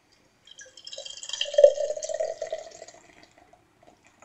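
Bud Light Seltzer iced tea hard seltzer, tangerine flavor, is poured into a glass in a short, close, fizzy trickle that swells and fades over about two seconds in an otherwise quiet room.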